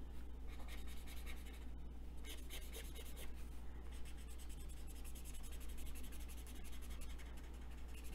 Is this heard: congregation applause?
no